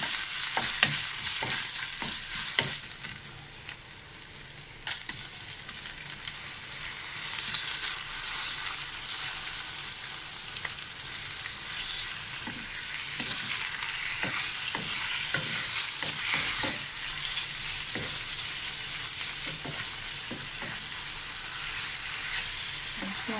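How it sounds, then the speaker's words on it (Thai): Fingerroot and Mekong giant catfish stir-fry in a hot pan, giving a loud, steady sizzle with scattered scrapes and clacks of a spatula throughout. "พอหอมแล้วก็ใส่กระชายลงไปผัด"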